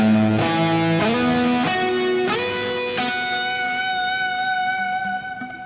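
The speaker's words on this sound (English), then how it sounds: "So this first lick is just ascending fifths." Electric guitar with an effects unit playing a lick of ascending fifths: five clear picked notes stepping upward about every half second, then a sustained ringing note fading out, loud and alone with no talk.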